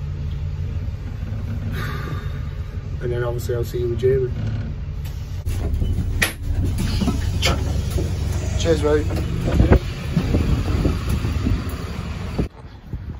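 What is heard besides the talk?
riding on a city bus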